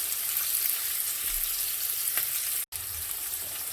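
Peppers and onions for a chicken jalfrezi cooking down in a pan, a steady crackling sizzle close by with a brief cut partway through.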